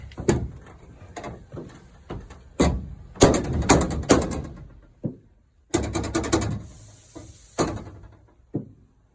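Set screws being tightened on a wooden A-frame fastening for a van interior build, a series of separate ratcheting mechanical clicks and turns, some loud and close, with short pauses between bursts and no talking.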